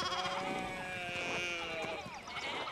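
Sheep in the medieval game Pentiment bleat repeatedly in overlapping, wavering calls, clear and close over a soft game backdrop.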